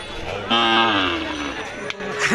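A cow lets out one drawn-out, close moo at a cattle market in Kalmakanda, Netrokona, with a murmur of market noise around it.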